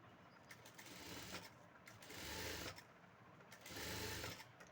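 Sewing machine stitching piping onto a lined blouse, running in steady bursts of rapid whirring that swell and ease, close and fairly loud with no talk.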